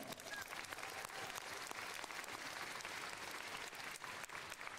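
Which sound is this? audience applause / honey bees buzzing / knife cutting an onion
audience applause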